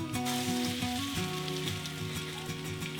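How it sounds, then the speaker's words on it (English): A rutabaga patty fries in a pan of bacon grease, a steady close crackling sizzle that stays dense and even throughout with small pops scattered through it. "place it in a pan of bacon grease"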